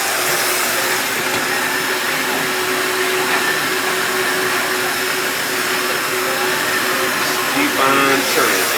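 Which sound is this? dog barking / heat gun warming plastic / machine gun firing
heat gun warming plastic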